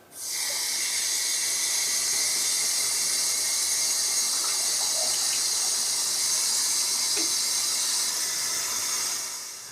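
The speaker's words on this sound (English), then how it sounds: "the water out their taps looks like this" Dirty water runs from a household tap on Victoria Island in Lagos, a steady close hissing gush that continues evenly for nearly ten seconds with faint splashes and drips underneath.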